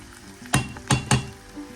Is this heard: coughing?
no